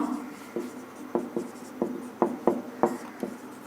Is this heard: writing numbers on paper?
yes